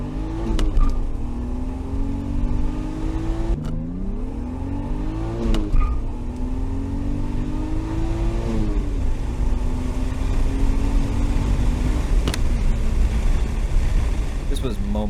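BMW E34 with an S52 engine swap pulls hard at full throttle, engine note climbing steadily through the revs with shifts around four and eight seconds, loud and close throughout, with some voice underneath.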